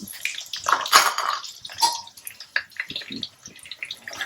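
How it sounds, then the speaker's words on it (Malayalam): Battered chicken pieces for orange chicken dropped into very hot oil for a second frying, with loud bursts of bubbling and hissing close by, followed by a softer, uneven crackle. "ഇനി എണ്ണ നല്ല ചൂടായ എണ്ണയിലേക്ക് ഇതൊന്ന് ഇട്ട് ഡബിൾ ഫ്രൈ ചെയ്തെടുക്കണം"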